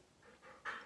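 A pet dog pants quietly nearby in a brief burst of soft, quick breaths, the last huff slightly stronger than the others.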